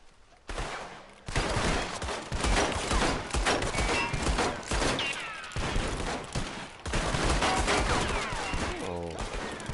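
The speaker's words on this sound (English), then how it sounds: "Oh, firing very rapid." Rapid gunfire crackles in bursts during a Red Dead Redemption II shootout, loud volleys broken by brief pauses, with shouts and other game sounds mixed in.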